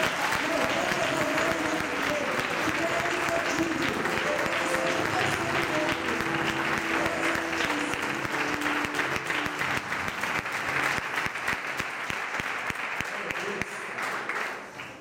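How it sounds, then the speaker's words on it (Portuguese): Church congregation applauding loudly at a Portuguese-language evening worship service, a dense sustained wash of clapping with cheering voices and music underneath, holding steady for the whole stretch before easing slightly at the end. "Agora vamos dar uma salva de palmas daquela que você nunca deu na sua vida."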